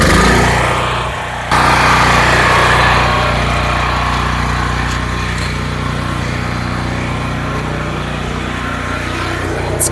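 A small Predator gasoline engine runs loud and close with a steady droning roar, a brief dip near the start before settling into a constant hum, no voices over it.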